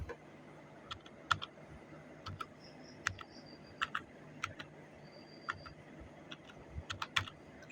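Irregular bursts of keystrokes on a computer keyboard, close and fairly quiet, with short pauses between clusters of taps and a faint background hum.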